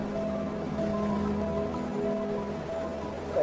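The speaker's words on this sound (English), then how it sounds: "You can hear the sound of the ocean magnified by this wonderful chamber of this cave." Ocean surf echoes inside a coastal sea cave on the Australian coast, a steady, loud, reverberant wash of water with a constant rushing roar and no talk.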